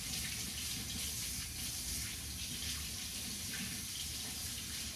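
Hot water runs steadily from a tap into a sink, a continuous soft hiss and splash at low level with no voices.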